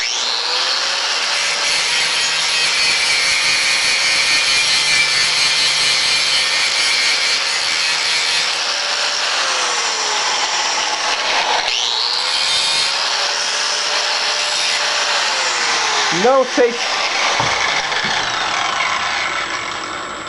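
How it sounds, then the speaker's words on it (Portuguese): An angle grinder grinds steel angle iron to make a square, a loud continuous abrasive roar with whining tone that rises and falls slightly as the disc works the surface, ending in a brief sharp screech. "você pega a lixadeira e toca ela nesse sentido, ela já pega o alinhamento aqui da superfície e faz o desbaste que você precisa fazer"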